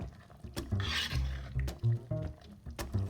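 Spoon scraping and rubbing around a pot while stirring sauce ingredients for lasagna, with close, irregular rasping strokes, occasional knocks against the pot and a soft wet churn.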